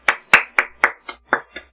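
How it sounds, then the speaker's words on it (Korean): Seven sharp hand claps in a steady, quick rhythm, close and crisp with nothing else around them. "진짜 박수 한 번 보내주시고요"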